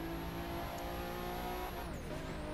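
Car in The Crew 2 slowing under braking, a steady engine tone whose pitch drops and bends near the end with faint tire noise, continuous and fairly quiet.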